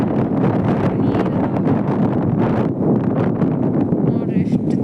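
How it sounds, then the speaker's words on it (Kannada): Strong wind buffets the microphone beside the full Kumatagi lake near Vijayapura, a loud, steady rushing roar with gusty surges, close and constant. "ನೋಡ್ರಿ ಎಷ್ಟು ಜೋರು ಗಾಳಿ ಅದ"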